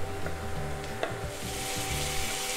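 Tomatoes hitting softened onions in a pan, a steady close frying sizzle with soft stirring and scraping over a low hum, no talking.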